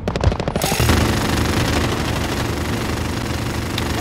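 Gunfire in Modern Warfare's Infected mode on the Euphrates bridge map: a rapid burst of close automatic shots gives way to a dense, continuous roar of firing and mechanical noise, loud and unbroken, without speech.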